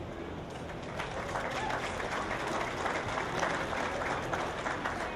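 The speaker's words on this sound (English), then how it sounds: "Quick round of applause for this class here." Applause from an audience at a beef cattle show, honoring a class of exhibitors; steady, even clapping of a moderate crowd heard from a distance, filling the whole stretch without pause.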